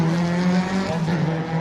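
A rally car on a local Speyside rally stage passes at speed, its engine a loud, sustained harmonic drone close by with a slight pitch shift as it goes past, no voices over it.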